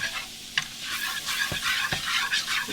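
Flour is stirred into hot bacon grease to start a gravy, with a continuous sizzle and several sharp scrapes and knocks of the utensil against the pan, close by and with no voices.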